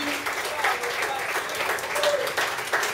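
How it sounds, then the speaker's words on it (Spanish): An audience at a folk music peña claps steadily in dense, sustained applause, with an announcer's voice heard over the clapping. "Renovamos los aplausos para Juancho el Trovador, que nos dejaba estos hermosos temas."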